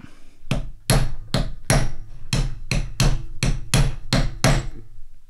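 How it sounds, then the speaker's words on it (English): A hammer drives pins into a BMW R100CS motorcycle brake caliper during an overhaul, striking about ten sharp metallic whacks in a quick, fairly even rhythm, close and loud, with no voices. "giving these pins a bit of a whack."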